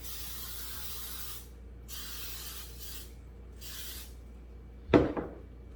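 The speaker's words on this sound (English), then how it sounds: "and I'm gonna spray." An aerosol can sprays in several short hissing bursts, separated by pauses, followed by a sharp clatter as something is set down.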